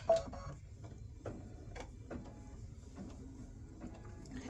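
An embroidery machine stitching a design onto a t-shirt, giving faint, regular ticking clicks in a steady rhythm over a low mechanical hum, quiet and alone.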